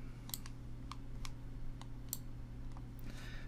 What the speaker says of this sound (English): So I'm just left clicking on this to highlight it.